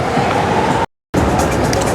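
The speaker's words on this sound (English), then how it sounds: "so that's the train" Train passing near Milsons Point Station by the Sydney Harbour Bridge, a loud, dense roar of wheels and rumble close by, cut by a brief gap of silence before resuming.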